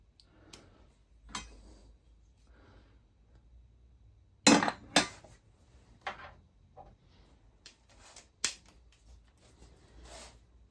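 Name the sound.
torque wrench tightening bolts on Harley Davidson air intake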